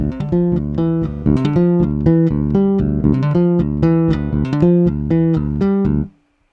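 A bass guitar line of repeated plucked low notes in a steady, syncopated rhythm, loud and alone, stopping abruptly near the end.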